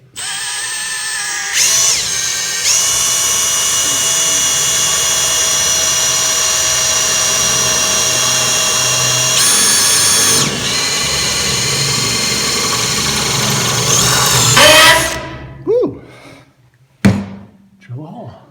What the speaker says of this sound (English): Drill a hole.